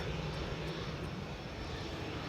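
A Boeing 787-9 Dreamliner arriving at Amsterdam Schiphol makes a steady, broad engine roar with no break, fairly faint and distant.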